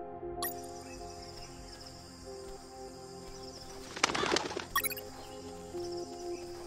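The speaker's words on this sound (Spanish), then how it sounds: "Y es que el caso es que el bicho suena por aquí. Puto cuervo." A crow caws in the jungle stage of the video game UnMetal: a short, harsh burst of calls rises above steady ambient game music and forest sounds, then the background hum continues alone.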